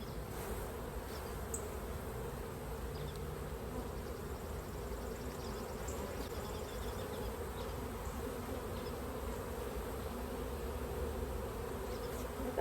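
A dense, steady hum of many honeybees buzzing close by around a hive frame, continuous and even throughout with no voices.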